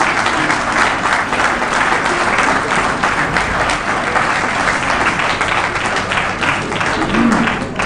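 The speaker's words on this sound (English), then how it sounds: "give a big round of applause to our hard-working people at the Liberia Revenue Authority" Sustained, loud applause fills the hall at a Liberia Revenue Authority awards ceremony honoring staff and taxpayers, a dense, steady wash of many hands clapping throughout without letting up.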